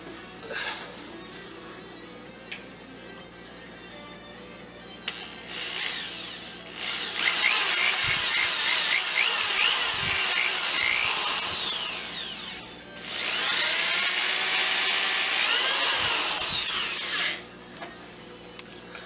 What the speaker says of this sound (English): I have a drill bit, and I'm going to drill 2 pilot holes